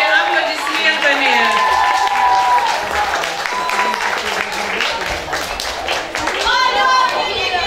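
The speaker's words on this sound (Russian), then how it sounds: "Бурными аплодисментами." An audience at a school pageant show applauds with sustained, lively clapping and some cheering. Children's voices and an announcer's speech carry over the crowd.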